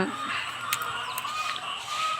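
Chickens cluck and call faintly in the background over a steady outdoor hiss, with a few brief higher squawks scattered through.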